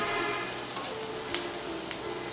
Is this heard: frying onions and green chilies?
yes